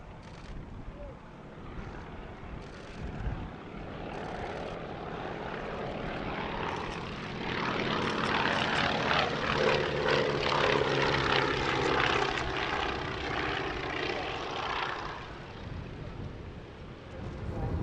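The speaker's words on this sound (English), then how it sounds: "It's the only airworthy Anson Mark I in the world" An Avro Anson Mark I propeller aircraft flies past at the Duxford Battle of Britain airshow, its engine drone rising to a loud, sustained pass midway and easing off, with wind buffeting the microphone.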